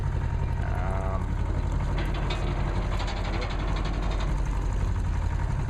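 Small Deutz diesel motor driving a cheap water pump at a remote site, a loud steady mechanical drone with rapid rattling pulses, running continuously up close.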